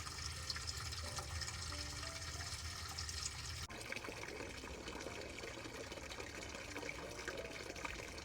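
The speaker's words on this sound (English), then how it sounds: "Nice flow of water coming out the taps," Water flowing steadily from the taps inside a truck camper, a close continuous splashing trickle into a sink that holds at an even level throughout.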